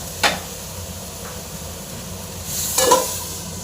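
Spice masala frying down in a pan for a Bengali egg curry with cauliflower and potatoes, a continuous low sizzle with a spatula scrape early and a louder burst of stirring and sizzling toward the end.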